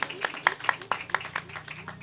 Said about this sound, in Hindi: आइए हम ज़ोरदार तालियां बजाएंगे खुदा उनकी बादशाही के लिए